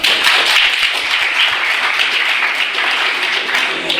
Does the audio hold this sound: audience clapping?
yes